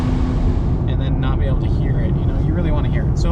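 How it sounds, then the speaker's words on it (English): A supercharged 2020 Chevrolet Camaro ZL1 1LE drones loudly from inside the cabin, a steady engine and supercharger hum with a faint higher whine above the roar. "so I can hear the supercharger, because who doesn't want a rad supercharged car and then not be able to hear it?"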